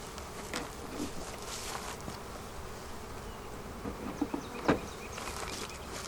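Honey bees buzz steadily in an outdoor bee yard as a beekeeper prepares to shake them into a nuc box, with a dense insect drone and a few louder passes close by.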